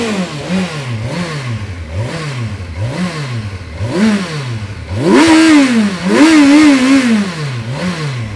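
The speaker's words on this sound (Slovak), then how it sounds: "Zvuk, ktorý teraz počujete, vychádza zo zadného Akrapoviča z koncovky" A 2019 Kawasaki Versys 1000 SE engine, whose four-cylinder roots lie in the Ninja and Z sport bikes, revving through an Akrapovic exhaust, with repeated throttle blips rising and falling, then two longer, louder revs, close and alone.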